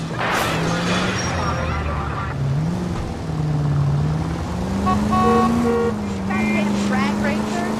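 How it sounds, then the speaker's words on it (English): Cars roaring at speed during an illegal street race in the L.A. Noire video game, engines droning and shifting pitch over steady traffic noise and horn-like tones, loud and continuous throughout. "Suspect vehicles engaged in illegal street racing."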